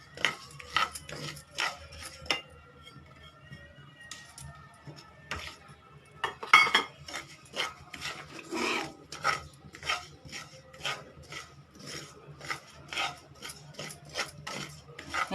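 Poppy seeds and sesame seeds dry-roasting in a pan without ghee, a spatula stirring them in steady, close scraping and rasping strokes with light rattles, with no talking.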